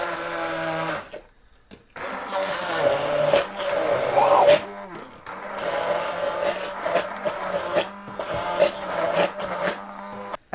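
A kitchen mixer runs with a steady, loud motorized hum and drone that cuts out briefly and restarts, its tone wavering as it works through the food.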